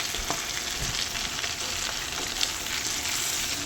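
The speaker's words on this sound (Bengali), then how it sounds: "কড়াতে আমি সর্ষের তেল দিয়ে দিয়েছি, দিয়ে আমি গলদা চিংড়িগুলো ভেজে নিচ্ছি।" Giant freshwater prawns shallow-frying in mustard oil in a kadai, giving a steady, fairly quiet hiss and crackle that holds without pause, with no talking.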